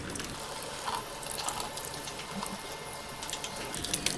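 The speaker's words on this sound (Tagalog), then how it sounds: "Bugahan na natin guys yung tubig." Water spraying onto the chassis of a Honda Giorno 125 scooter during a wash, a steady close hiss with faint mechanical clicks, no talking.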